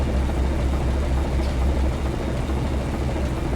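An Alco diesel locomotive in the Trainz 22 train simulator, its engine producing a continuous low, heavy rumbling drone that stays loud and even throughout.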